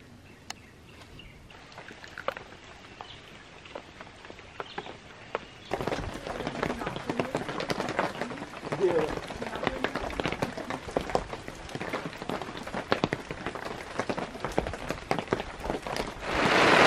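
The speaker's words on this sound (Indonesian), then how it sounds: "Oke, kejebak hujan nih ternyata ya." Rain pours down at Tangkuban Perahu mountain, starting light and quickly becoming a dense, close patter on surfaces, with voices faintly in the mix.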